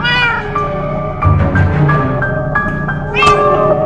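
Winslow the cat in Minecraft: Story Mode gives a run of loud, close meows, several drawn-out wails one after another with short breaks, heard alone without talk.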